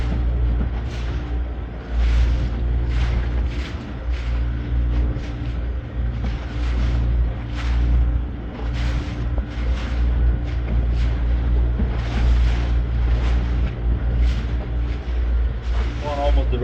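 A small boat motors almost straight into the wind through one- to one-and-a-half-foot ocean swells, its engine a steady loud drone under rhythmic thumps and splashes as the hull meets each wave, with someone talking over it.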